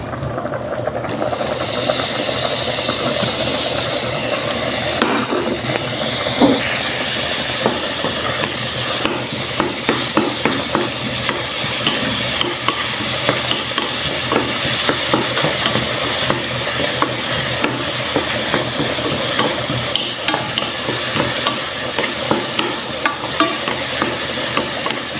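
Onion frying in a pan, a loud, continuous crackling sizzle with constant bubbling and spitting that holds throughout, close and unbroken.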